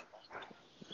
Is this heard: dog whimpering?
yes